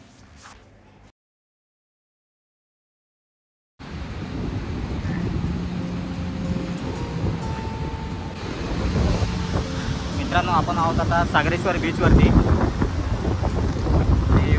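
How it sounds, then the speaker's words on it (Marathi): After a brief silence, strong wind roars across the microphone at Vengurla beach on the Konkan coast, with surf rumbling underneath. Someone speaks briefly over the steady, loud gusts. "वारा खूप सुटला आहे."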